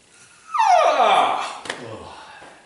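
A person vocally imitates a dog, giving one drawn-out whining howl that slides downward, followed by a brief softer yelp, close and fairly loud with no other talk.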